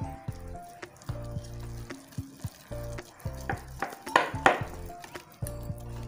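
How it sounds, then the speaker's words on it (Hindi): Hand beater working flour and other dry cake ingredients in a bowl, running in short on-off bursts of a whirring motor tone with soft rattling against the bowl between them, close and moderately quiet, with no speech. "ये मैं इस जो है मैदा वगैरह मैंने तमाम जो ड्राई थे चीज़ें साथ मैं इसमें मिक्स कर रही हूँ हैंड बीटर की हेल्प से"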